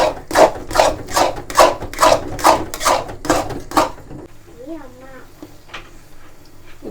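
Thick thothal being stirred steadily in a pan, the ladle scraping the base: about eight loud, evenly spaced strokes that then give way to quieter, softer sounds with a faint voice.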